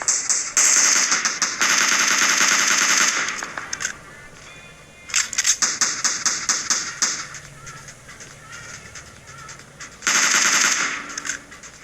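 SLR rifle fire in a PUBG Mobile solo-versus-squad match: loud rapid bursts of shots in several clusters separated by quieter gaps with faint clicks and game ambience.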